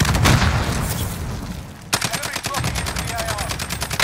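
A SCAR rifle fires in Warzone, a rapid run of cracking shots going off after a loud, noisy stretch. The shots stay close and punchy, with in-game sounds layered underneath.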